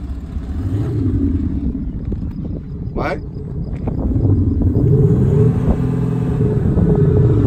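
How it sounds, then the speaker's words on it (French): An Audi SQ5 TDI diesel SUV engine idles in dynamic mode with a low, steady rumble that grows slightly louder toward the end, while someone speaks briefly nearby. "Le moteur est allumé, mode dynamique activé."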